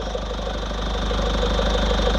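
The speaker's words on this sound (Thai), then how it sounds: "ครับฟังเสียงเครื่องครับ" Idling 1.9 litre diesel engine of an unmodified 2020 Isuzu D-Max Hilander pickup, a steady close rumble with a fine even knock, heard alone and without talk.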